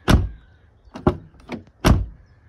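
Driver's door of a Mazda MX-5 being shut four times after new door bushings were fitted, giving sharp clunks with a softer whooshing tail, close and distinct, separated by short pauses.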